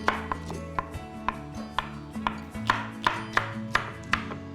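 A knife coarsely chops cleaned winged beans on a board, about a dozen sharp, evenly spaced thuds close up over a faint background hum.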